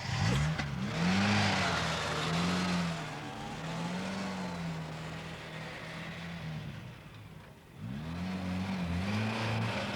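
A car driving slowly with the handbrake on gives a steady engine drone and a low wavering whine that rises and falls, then dips and picks up again near the end.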